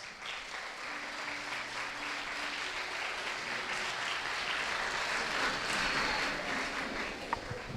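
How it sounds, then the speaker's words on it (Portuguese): A church gathering's audience claps to welcome a pastor at a late-night worship meeting, a soft, distant, continuous patter of many hands that swells slightly toward the end. "quero que você receba ele com uma salva de palmas"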